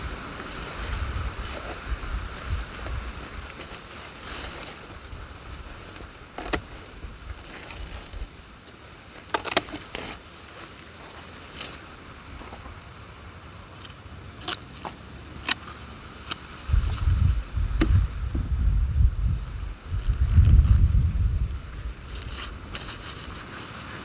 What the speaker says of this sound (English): it's still windy, so I don't know if you can hear me